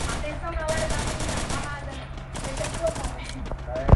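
Rapid bursts of game gunfire crackle continuously, layered with constant busy background noise.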